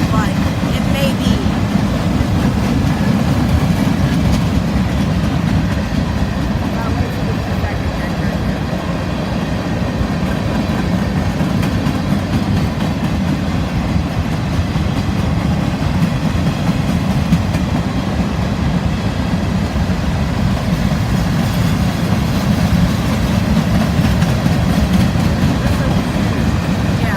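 Freight train hauled by an SD40-3 locomotive rolls past on the Florida S-Line with a continuous loud rumble and rattling wheel noise, steady throughout and close by, with a voice talking over it.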